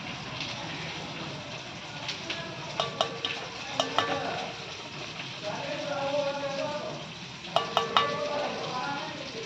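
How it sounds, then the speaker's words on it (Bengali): Chicken pieces are mixed by hand with cornflour and salt for chilli chicken, making soft squelching and rustling with a few bright clicks against the bowl. "কর্নফ্লাওয়ার 3 চামচ দিয়ে এটাকে ভালো করে মিক্স করে নেওয়া হচ্ছে।"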